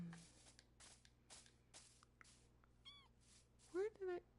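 A cat meows in a leisure exploration and building video game, with a short rising call followed by two louder, drawn-out meows near the end, set over quiet scattered game sounds and faint background noise.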